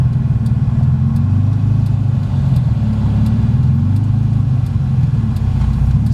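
A turbocharged BMW E30 engine idles roughly with a steady low rumble and slight unevenness, heard close up with no one speaking.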